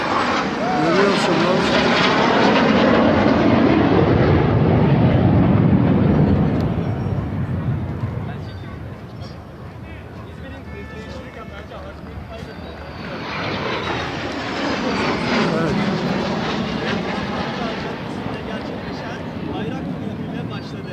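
Loud engine roar of aircraft swells and fades, then builds again, with voices faintly beneath it, during Liberation Day celebrations in Izmir by the sea.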